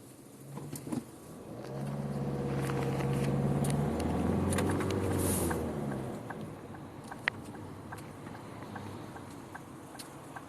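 A car engine and passing traffic rumble while waiting at traffic lights, a swelling motor drone that peaks mid-clip and fades, followed by quieter ambience with occasional light clicks.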